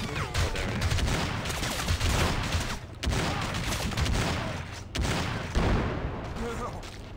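Shotgun blasts ring out in the Crysis Remastered shooter, played on Nintendo Switch, as a dense, loud barrage of repeated shots and booms fills the whole stretch, with brief pauses and a voice talking over it.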